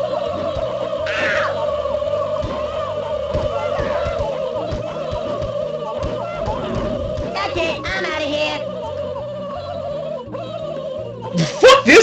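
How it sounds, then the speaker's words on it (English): Turkeys gobbling in a South Park video game, a busy chorus of repeated gobbles running steadily throughout, with a few sharp louder bursts at the very end. "those fucking turkeys! Shut up!"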